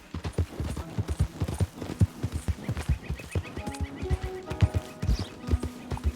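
Horse hooves clip-clopping at a steady walking rhythm in the video game Red Dead Redemption 2, close and distinct, with brief tonal game sounds and an occasional faint whinny.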